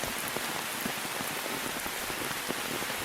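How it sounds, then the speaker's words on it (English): Heavy early monsoon rain, a steady, dense hiss of drops pattering on surfaces, faint but continuous and unbroken, with occasional slightly louder drips and no voices. "2011 saw an unexpectedly early and unusually heavy onset of the monsoons"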